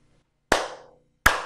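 Two sharp, close hand claps, as made at a Japanese temple, spaced about three-quarters of a second apart, each with a short reverberant decay, heard alone.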